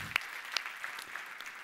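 Faint, thin applause from an audience honoring military families at a keynote talk, a few sharper claps standing out over a soft, distant patter.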